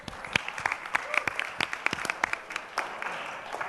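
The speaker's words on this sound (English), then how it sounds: "Round of applause for the big dog, everyone." Applause at a music industry forum for John Snyder, sparse, distinct claps from a small crowd at some distance, thinning out toward the end.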